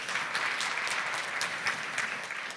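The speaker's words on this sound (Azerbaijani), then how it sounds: "Xahişimi alqışlayın, Ramil bəy" Audience applause at a business sales forum, a dense steady clapping from a large crowd that stays loud and even throughout.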